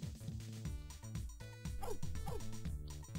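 A dog barks and yips a few times inside a party game about finding and petting a pup, short bursts over busy background music.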